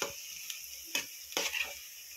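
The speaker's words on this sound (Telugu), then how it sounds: "వీటిని మీడియం టు హై ఫ్లేమ్లో పెట్టి బ్రౌన్ కలర్ వచ్చే వరకు ఫ్రై చేసుకుందాం." Onions frying in oil in a biryani pot over medium-high flame, a soft hissing sizzle broken by a few brief stirring scrapes, close and fairly quiet.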